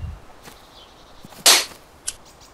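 A single sharp gunshot cracks out in the survival video game DayZ on the northwest airfield, followed moments later by a second fainter report, with quiet ambience between.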